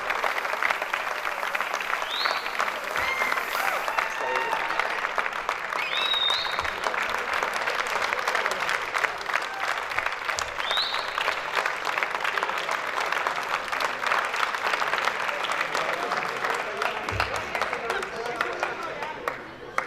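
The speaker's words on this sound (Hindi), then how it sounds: "आप खड़े होकर उनका वायलाना इस्तकबाल कीजिए और अपनी तालियों की गूंज में उनका इस्तकबाल करें" A large audience at a university commerce department welcome party claps continuously as a guest comes on stage, dense sustained applause filling the room for the full stretch with occasional whoops.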